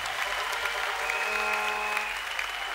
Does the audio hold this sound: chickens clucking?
no